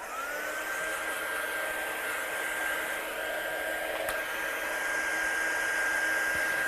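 A hair dryer runs steadily and close by, a constant whirring blow drying freshly blended ink on paper, with no talk over it.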